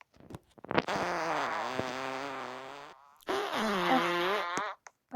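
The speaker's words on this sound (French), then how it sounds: "Allez, on a le ballon péteur." A fart balloon toy lets out two long, buzzy, wavering fart noises, the first drawn out for about two seconds and the second shorter after a brief pause, close and fairly quiet with no speech.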